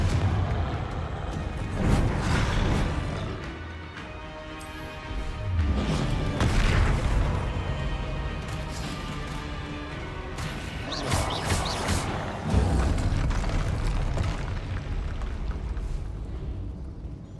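The Confringo blasting curse in Hogwarts Legacy goes off as several heavy booming explosions, each with a crashing rumble and a long tail that fades before the next loud blast.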